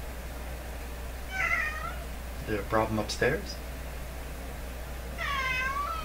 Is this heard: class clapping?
no